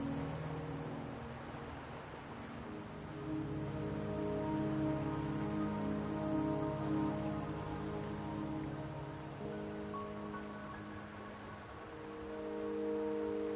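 Rain falling in the video game Wuthering Waves, a steady patter of drops under a layered tonal music or ambient bed that swells and eases, with no speech.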